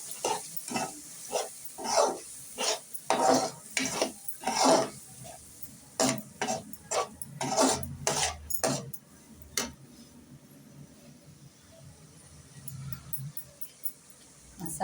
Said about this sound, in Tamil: போட்டு நல்லா வதக்கணும். 2 கிண்டு கிண்டிட்டு நம்ம அரைச்சி வச்சிருக்கிற மசாலாவை இதில் விட்டுறணும்.